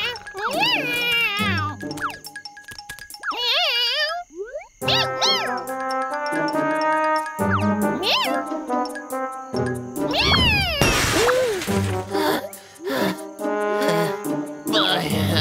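A cartoon cat from an animated children's show meows repeatedly in exaggerated, pitch-bending cries, mixed with jingly tinkles, boings and other playful sound effects, alongside lively background music and voices.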